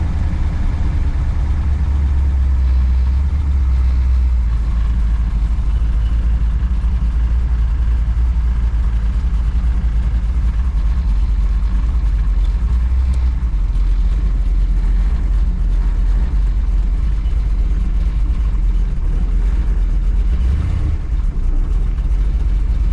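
Pro street car engine rumbling steadily and loudly while driving down the road, a continuous deep drone with no break.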